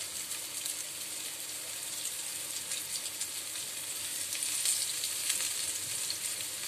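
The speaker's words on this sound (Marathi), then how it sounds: "मी रव्यामध्ये रॅप केले मच्छी मी आणि आता व्यवस्थित फ्राय करणार आहे" Semolina-coated halwa (pomfret) fish fries on a low flame with a steady, even sizzle, close and continuous with no talking.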